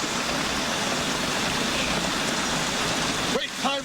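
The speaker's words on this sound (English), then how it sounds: "Right now, it's pouring rain." Heavy rain pours steadily, a dense loud hiss throughout, with a brief voice breaking in near the end.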